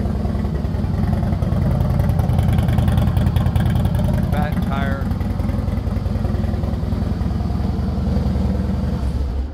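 A 2012 Harley-Davidson Fat Boy with a 103 engine and 2-into-1 exhaust runs steadily with a low, throbbing idle and mild revving, heard under continuous talking.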